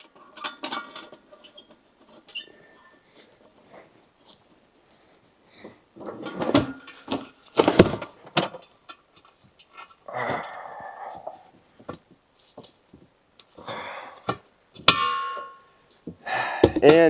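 A propane tank being screwed in and tightened on a truck camper gives sparse metallic clangs, clicks and scraping knocks, bunched in short clusters with pauses between.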